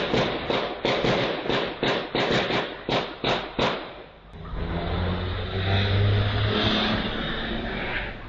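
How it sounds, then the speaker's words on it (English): In south-west Sydney, a rapid series of about ten sharp gunshots cracks out in a steady burst, followed by cars roaring and speeding away. "Shots, it sounds like,"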